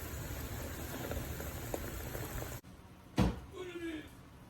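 Peach cobbler filling with sugar bubbling at a slow boil in a pot, a steady soft simmer that cuts off abruptly partway through, followed by a short burst of voice and faint clatter.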